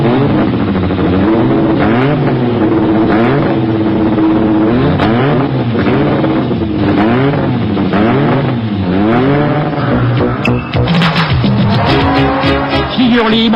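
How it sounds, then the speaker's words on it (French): A 1988 Renault 21 Turbo Superproduction race car warms its tires, its engine revving hard and rising and falling in pitch while the tires squeal loudly, close and continuous, with sharper bursts near the end. "Qui veut voyager vite chauffe d'abord ses pneumatiques."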